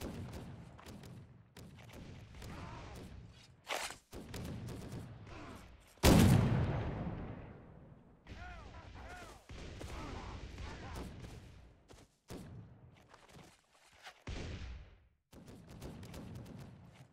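Repeated booming blasts of cannon fire from a fort in the game Blood & Gold: Caribbean, irregular and heavy, one especially loud burst standing out amid rumbling explosions.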